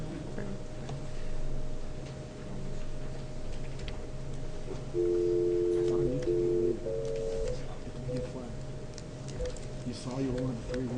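A telephone call being dialed in a committee meeting room, a short run of electronic keypad tones sounding faintly under room hum and soft background chatter.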